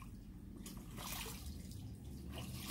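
Ducks bathe in a small pool under an avocado tree on a hot day, splashing and dabbling in a quiet patter of churning water with a few louder splashes, fairly faint and close.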